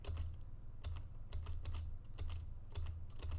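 Typing on a computer keyboard to play a game on a TI-84 Plus CE graphing calculator, rapid clusters of close, crisp key clicks in an uneven rhythm, with no voices.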